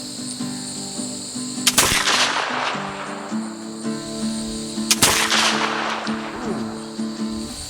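A Kentucky muzzle-loading rifle in .45 caliber fires round balls outdoors, two sharp loud shots a few seconds apart, each with a rolling echo, over a steady bed of chirping crickets or insects.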